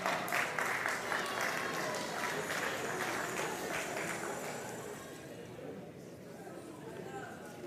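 An audience at a talent show finale applauds, a full crowd of clapping hands with chatter underneath that starts strong and gradually thins and fades toward the end.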